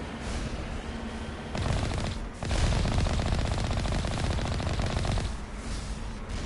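Sustained automatic fire from Alliance turrets in the video game Mass Effect 1, a dense rapid clatter of shots that swells louder midway with a short pause, heard alone without talk.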